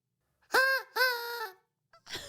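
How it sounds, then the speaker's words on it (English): Two loud, nasal honks from an angry goose, each drawn out and close, followed by a fainter short call after a pause, in an otherwise quiet setting. "That's what a goose sounds like when it's angry."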